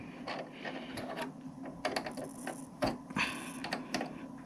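Small key tightening a part on a Brother PE800 embroidery machine, making a quiet run of irregular ratcheting clicks and taps close by.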